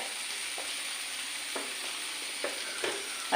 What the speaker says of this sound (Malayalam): ചെറിയ തീ കിടന്ന് മൊരിയട്ടെ